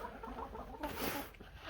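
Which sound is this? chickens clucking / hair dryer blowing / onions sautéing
chickens clucking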